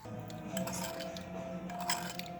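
Vegetable stir-fry noodles with garlic are stirred in a pan, giving soft, close scraping and light clinking of a utensil against the pan over a low steady sizzle, with no talk.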